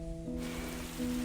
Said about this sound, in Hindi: बाहर बारिश की बूंदें अब भी खिड़की से टकरा रही थीं